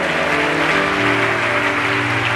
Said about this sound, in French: On peut acclamer la parole du Seigneur.